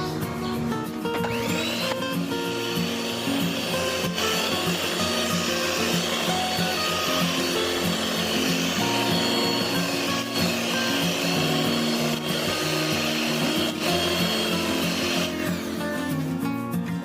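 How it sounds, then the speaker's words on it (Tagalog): Butter and condensed milk being mixed into a stable cake frosting, giving a loud, unbroken motor whine with a steady churning texture that runs the whole stretch without talk. "Na-mix na po natin ng ayos yung ating condense at yung ating butter."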